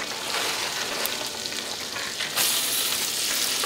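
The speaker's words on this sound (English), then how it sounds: "Throw some garlic in there." Garlic sizzling in a hot pan alongside a blue and stone crab surf-and-turf dish, a steady loud frying hiss that swells brighter near the end, with no talking.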